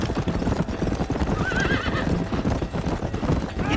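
A horse in the Red Dead Redemption video game gallops in rapid rhythmic clip-clop and gives a clear whinny partway through, loud and close amid a busy game mix.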